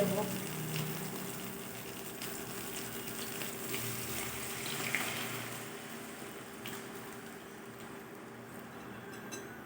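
Cooked dal (lentils) poured into a pan of fried spices, giving a continuous watery splashing rush with a soft sizzle that holds steady for several seconds.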